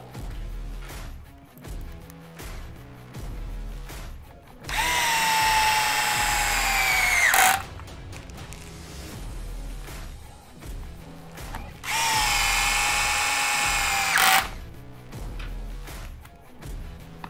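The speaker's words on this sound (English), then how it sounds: "then it's a 3mm hex screwdriver. And do the 4 main screws." Power driver with a 3mm hex bit tightening the main screws on an ARRMA Kraton 8S RC car during differential reinstallation, giving two close, loud, high-pitched whirring bursts of about three seconds each, separated by quieter handling noises.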